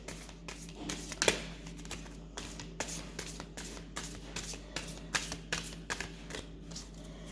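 Tarot cards being shuffled, with repeated crisp riffling bursts and soft papery flicks at an uneven pace, close up and fairly quiet.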